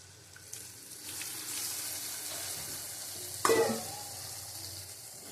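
Water splashed into a pan of frying katla fish curry, a steady sizzle that flares with a sudden hiss and bubbling as the liquid hits the hot oil, then settles back.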